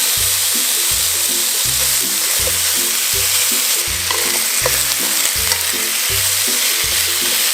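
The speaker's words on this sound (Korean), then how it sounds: "달궈진 팬에다가 삼겹살 넣어놓을게요" Pork belly in a hot frying pan sizzling loudly and steadily, a dense close crackle and hiss with brief scraping touches, no voices.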